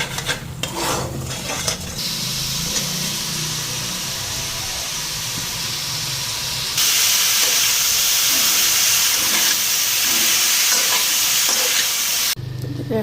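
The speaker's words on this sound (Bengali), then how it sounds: "মশলাটা ফ্রাই করে নিতেছি জিরা ধনার গুঁড়া দিচ্ছি" Cumin and coriander powder fry in a pan with a loud, steady sizzle and scraping stirs. The hiss swells partway through and then cuts off near the end. No voices.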